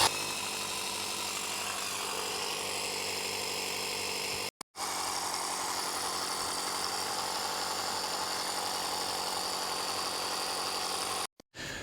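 A portable tyre inflator runs steadily and loudly at a petrol station while it pumps up a van tyre, a continuous buzzing drone with two brief cutouts, close by.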